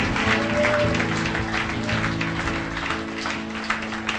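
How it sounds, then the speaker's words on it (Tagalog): A congregation at a church anniversary service claps hands in sustained, dense applause lasting several seconds, with music or voices underneath. "Palakpak ang mga kamay."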